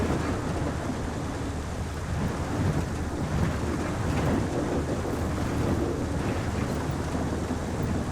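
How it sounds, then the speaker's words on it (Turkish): Steady, dense video game rain hisses and patters throughout, with a low rumble underneath and no voices. "yine yağmur başladı ya"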